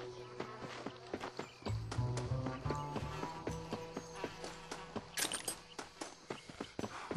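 Horse hooves clip-clop in a steady, close rhythm in the Red Dead Redemption video game, continuing without a break across the whole stretch.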